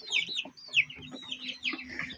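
Small flock of chickens, hatchlings and bigger birds kept together, giving repeated close, soft clucks and chirpy calls in short bursts over a low steady hum.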